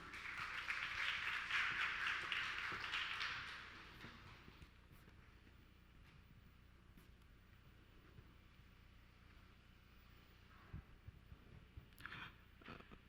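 Audience applause at a local creators' festival forum, a dense burst of many hands clapping for about four seconds that then fades into quiet room tone with a few stray sounds.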